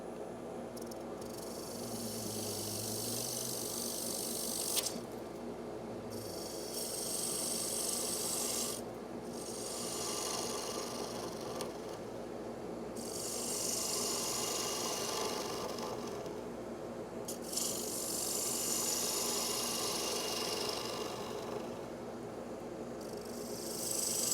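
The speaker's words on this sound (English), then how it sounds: "I'm going to just do this real quickly with a bowl gouge" A bowl gouge cuts a small holly dish spinning on a lathe, a steady rasping scrape that keeps going with brief breaks between passes, close and moderately quiet under a low motor hum.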